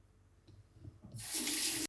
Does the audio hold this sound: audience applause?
no